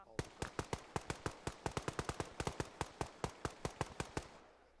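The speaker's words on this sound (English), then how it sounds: "Who are you shooting at?" Rapid bursts of gunfire in ArmA 3 crack out in a steady, evenly spaced stream of about thirty sharp shots over a few seconds, loud and close, then fall away into a fading tail.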